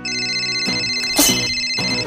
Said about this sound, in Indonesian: Bunda telepon ke dokter Leka dulu ya